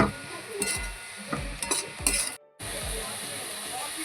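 A spoon stirs grated coconut with gram flour and atta in a pan over high heat, repeated scraping and clinking strokes with a soft sizzle underneath, close and moderately quiet, with a brief gap of silence.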